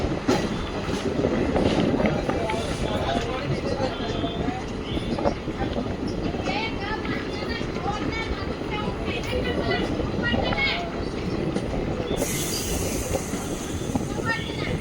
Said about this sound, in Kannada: ಬರೀ 14 ಕಿಲೋಮೀಟರ್ ಕವರ್ ಆದಮೇಲೆ ನಮ್ಮ ಟ್ರೈನ್ ಬಂದೈತ್ರಿ ಈಗ ಖಾನಾಪುರ ಜಂಕ್ಷನ್ಗೆ.